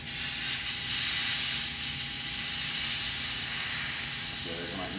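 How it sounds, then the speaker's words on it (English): Air rushes out of a Kaabo Wolf Warrior 11 scooter tire as its valve core is pulled, a steady close hiss holding for several seconds. "Going to remove that valve core out of there."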